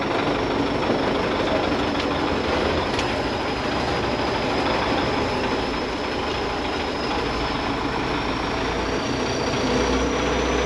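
A tractor engine runs steadily during field sowing work, heard from inside the cab as a loud, continuous rumble with no break for the whole stretch.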